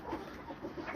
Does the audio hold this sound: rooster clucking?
yes